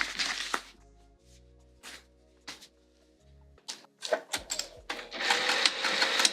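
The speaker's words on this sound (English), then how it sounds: "We're going to sew the sides and across the bottom" A sewing machine stitches the sides and bottom of a fabric Fogerty bag in short mechanical whirring runs, separated by brief pauses and light clicks, then a longer, busier stretch of stitching and handling noise at the end.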